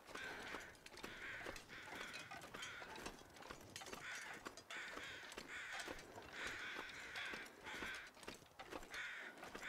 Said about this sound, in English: I can hear the crows, it must be close.